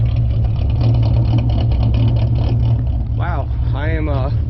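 A Ford Mustang with a 4.0 V6 and an idle chop mod and no catalytic converters idles with a steady, lumpy low rumble close by, while someone talks over it near the end.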